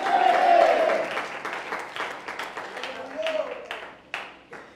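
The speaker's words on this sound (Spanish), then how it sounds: "Dele palmas de alabanza al Señor" Church congregation at an anniversary crusade service in Lampa, Chile, clapping in praise, a steady crowd of claps mixed with voices and shouts, fairly loud and close, easing off over the last seconds.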